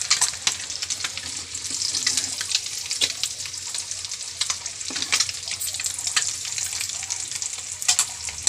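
Eggs for an egg curry fry in hot oil with a continuous crackling sizzle, close and fairly loud, with scattered sharp pops and spatter bursts throughout.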